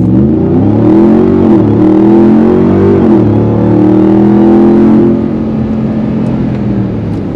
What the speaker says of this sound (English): So launch control, pressure, apply full throttle,